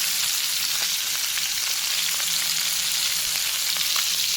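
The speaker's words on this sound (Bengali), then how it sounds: "মাছটাকে এই যে মাছ ভাজি বসাইছি" Loitta fish fries in a pan with a steady, close, high-pitched sizzle, and faint spitting pops sit under the hiss. The sound stays even from start to finish with no voices.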